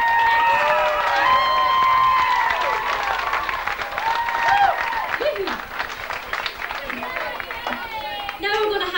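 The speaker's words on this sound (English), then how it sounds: "applause for the two groups there tonight who are absolutely" Audience applause and cheering at a 1994 talent show in Derragarra, loud clapping that thins out as a voice and singing-like tones carry over it.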